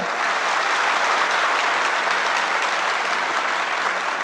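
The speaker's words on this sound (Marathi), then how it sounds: "जोरदार टाळ्या वाजवायचा एकदा" Loud, dense applause from a large audience at a motivational talk, steady and sustained throughout with no pauses.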